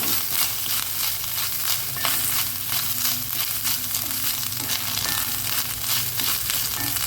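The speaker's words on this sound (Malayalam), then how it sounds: "അരമുറി നാളികേരം ഒന്ന് ഇളക്കി കൊടുക്കാം" Grated half coconut with shallots frying and being stirred in a pan for a breadfruit curry, a steady close sizzle with soft scraping stir strokes repeating throughout.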